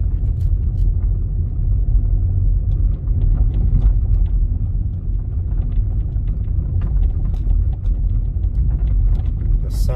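A car rolls down a park road toward a dam and old mill at McConnells Mill State Park in Portersville, Pennsylvania, its steady low rumble loud and close throughout, with faint clicks and rattles over the top.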